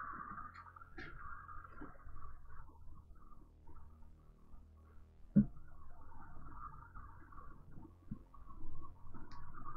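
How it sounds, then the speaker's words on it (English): A bird calls faintly at a distance on a hot day, with a soft cooing and short chirps over a quiet, steady background hum and no talk. "Bird."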